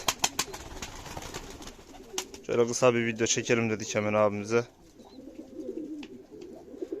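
Someone speaks briefly while pigeons coo softly in the background, their low throaty calls near and intermittent.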